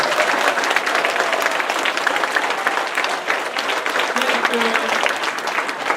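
Audience applause at the opening ceremony of a Lego FIRST robotics event, a dense steady wash of clapping from a crowd that holds level throughout, with a faint voice murmuring underneath near the end.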